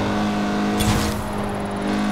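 A Mazda's engine in Forza Horizon 4, driven fast on small roads, holds a steady loud drone with a brief surge of revs partway through. No one speaks.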